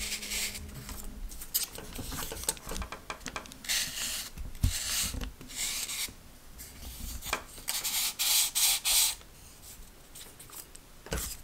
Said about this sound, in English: to want to sand off all of the straight edges on these to make sure there are no laser burrs